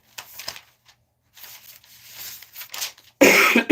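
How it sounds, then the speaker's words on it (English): A person coughs a few times, short rough bursts close to the microphone separated by pauses, followed by a louder, harsher fit at the end. "Sorry, I have a cough a little bit."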